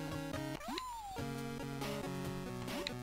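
In the Game Boy Color game Sabrina: The Animated Series: Spooked, the cat gives a short, bending chiptune meow over looping, busy 8-bit background music, with no voices.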